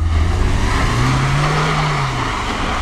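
A car on studded Bridgestone Blizzak winter tyres pulls away, its engine droning loud and close with a rising then settling pitch, under steady road noise.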